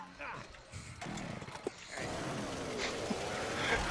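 Chainsaw revving in the zombie game Left 4 Dead 2's swamp campaign, a buzzing motor snarl that surges and holds amid game noise, with players talking over it.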